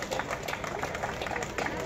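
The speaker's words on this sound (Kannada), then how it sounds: "ಚಪ್ಪಾಳೆ ಕೊಡಿ" A crowd at a Constitution Day event in Virajpet claps for a student prize winner, a dense, steady patter of applause at moderate volume.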